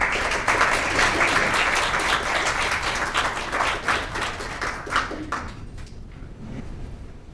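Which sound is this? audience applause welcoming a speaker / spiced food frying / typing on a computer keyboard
audience applause welcoming a speaker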